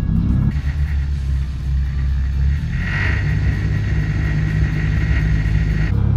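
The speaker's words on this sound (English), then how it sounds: "I'm driving a car that last ran in a Powder Puff Derby a lot of months ago" Rough engine of a worn demolition derby car that last ran in a Powder Puff Derby, a loud close rumble idling, then pitch shifts as it revs, with a continuous drone throughout.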